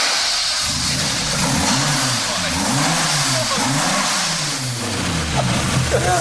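A Lada car engine with its exhaust removed revs hard and unmuffled, its raw, raspy note rising and falling in repeated surges over a steady loud drone.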